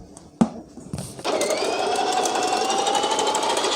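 An electric vegetable cutting machine slicing cucumber, starting with a few sharp clicks and thumps before settling into a steady, close, high-pitched motor whir with a rapid buzzing edge.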